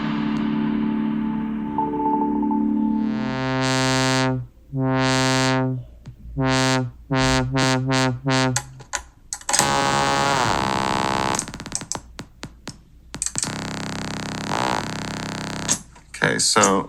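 A pure analog synthesizer saw wave plays buzzy, harmonic-rich tones in repeated stabs and sustained notes, its timbre shifting as it is shaped, alongside a moderate hum.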